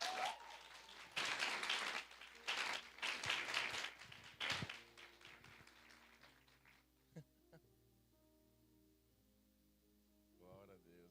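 Church congregation applauding in praise at a worship gathering, several bursts of clapping over the first five seconds that fade into quiet room sound and a brief voice near the end.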